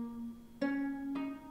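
A plucked gusheng, a Chinese zither, pitched down an octave, with two clear plucked notes ringing and decaying over a held low tone, quiet and without voices.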